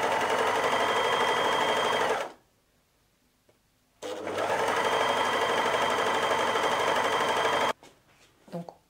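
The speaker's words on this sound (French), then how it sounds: "Donc on a cousu le côté." A sewing machine stitches a side seam in stretch fabric pinned in place while a skirt is made, running loud and steady in two long bursts with a pause between, then falling to quieter handling at the end.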